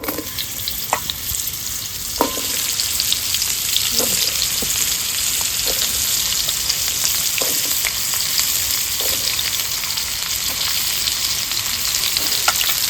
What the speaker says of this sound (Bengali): তেল দিয়ে দিচ্ছি পটল আর আলুগুলো একটু ভেজে নেবো